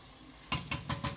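Blended spices tipped into a hot frying pan while making horse mackerel fish balls, hissing in four short, distinct sizzling bursts at close range.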